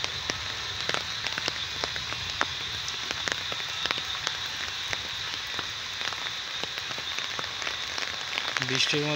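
Steady rain falls on a village walk near a pond, a dense patter of drops hitting surfaces with scattered louder taps, heard close and continuous.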